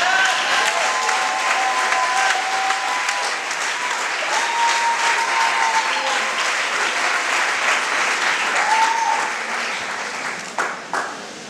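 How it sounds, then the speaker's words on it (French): A crowd at a pastors' graduation ceremony of a Foursquare church in Côte d'Ivoire breaks into sustained applause with scattered cheers and whistles. The clapping lasts about eleven seconds and fades out near the end. "Est-ce qu'on peut le faire tous en acclamant très fort?"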